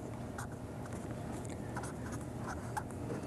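A pen scratches out a chemical equation by hand during a chemistry lecture, making close, continuous scratchy strokes with short pauses between them.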